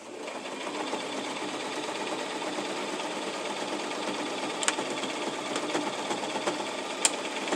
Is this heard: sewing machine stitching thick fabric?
yes